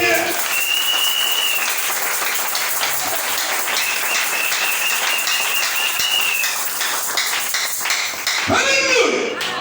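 A church congregation applauds to acclaim the Lord, a loud, sustained wash of many hands clapping that runs throughout, with faint whistles, voices and a bright tone mixed in.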